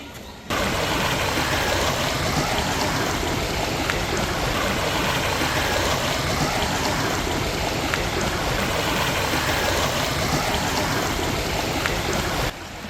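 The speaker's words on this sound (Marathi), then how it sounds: "सिद्धेश्वर तलावाच्या बाजूला असलेल्या खंदक बागेतून किल्ल्याच्या भिंतीपासून पुढे वाहत जात आहे" Excess water released from Siddheshwar lake rushes continuously through the moat garden beside a fort wall, a dense, steady, close roar of flowing water with no voices.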